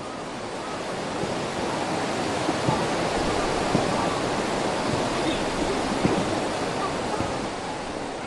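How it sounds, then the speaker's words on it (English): River water flows during the dry season, a constant broadband rushing wash that is loud and steady for the whole stretch with no talk. "you can hear the water and you can see the water flow"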